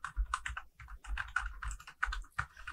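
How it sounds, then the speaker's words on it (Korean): Someone types on a computer keyboard while filling in an Excel spreadsheet, giving quick, irregular clusters of crisp key clicks with brief pauses, close and fairly quiet, with no one speaking. "자, 이제 타이핑 해볼게요."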